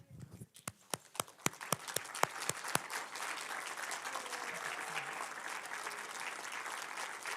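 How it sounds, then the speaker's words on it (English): An audience at a Waynesboro church service applauds. A few sharp, separate claps come first, then they merge into a sustained wash of clapping from the whole room that carries on steadily to the end. "We'll give you one last round of applause."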